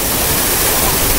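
Natural waterfall at Yaganti, a loud, dense and continuous rush of falling water with no breaks or other sounds.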